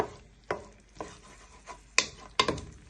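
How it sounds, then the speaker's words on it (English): A spatula stirs and scrapes chicken frying in a pan for fajita pasta, giving a series of sharp, spaced clanks and scrapes over a faint sizzle. "you're just frying your chicken for 3 to 5 minutes"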